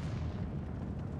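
An HE shell fires from a tank in World of Tanks Blitz as one dense, rumbling low boom that fills the whole short moment, with no voices.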